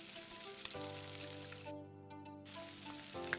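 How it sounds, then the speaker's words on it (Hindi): Chicken pieces for zinger burgers sizzle and crackle steadily in hot oil, a dense continuous frying hiss heard up close with no voices. "इसलिए इसको आपने बड़े ही तहम्मुल के साथ फ्राई करना है"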